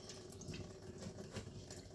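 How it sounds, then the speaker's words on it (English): Pinto beans being rinsed under running tap water in a kitchen sink, a steady moderate splashing and trickling stream that continues without pause and without talk. "I'm going to rinse them again."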